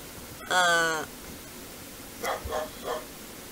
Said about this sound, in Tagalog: Nag-iingay naman ang mga aso kasi mating season